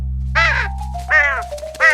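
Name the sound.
crow cawing in a cartoon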